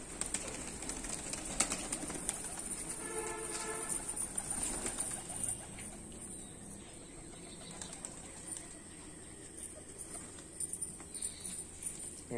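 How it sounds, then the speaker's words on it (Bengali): Fancy and Giribaj tumbler-roller pigeons shuffle and flutter in a loft, with quiet scattered wing flaps, soft cooing and light scratching, all faint and close with no talking. "এখানে সব পায়রা আছে।"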